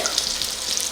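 Pork belly frying in a hot pan crisping its skin, heard as a brief, close, continuous sizzle with fine crackles and spits.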